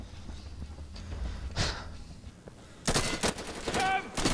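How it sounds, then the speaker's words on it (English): Gunfire from the video game Insurgency: a lone distant shot, then a loud, rapid burst of automatic fire that keeps going through the second half, with busy battlefield noise underneath. "I'm being shot from somewhere"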